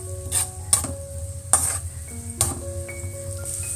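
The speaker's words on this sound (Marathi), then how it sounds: "कांदा चांगला थोडा लालसर होईपर्यंत परतून घ्यायचा आपल्याला." Sliced onion frying in hot ghee for veg biryani, a steady soft sizzle under several bright metallic clinks and scrapes of a spoon stirring against the pan, close and fairly loud.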